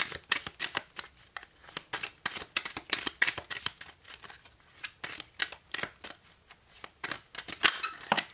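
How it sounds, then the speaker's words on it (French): Christmas-themed oracle cards are shuffled and drawn in quick, crisp riffling bursts, papery flicks and slaps repeating steadily at close range with no voices. "Alors, on va tirer trois cartes du Merry Christmas"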